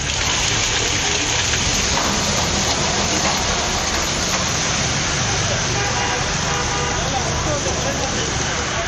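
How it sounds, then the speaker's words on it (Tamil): Heavy rain pouring down at night in Puducherry, a dense, continuous hiss of drops hitting the ground, with passing road traffic mixed into the steady downpour. "இரவு நேரத்தில் கனமழை கொட்டி தீர்த்தது"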